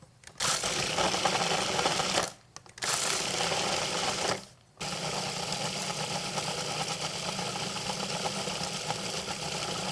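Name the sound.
food processor pulsing cold peach crumble topping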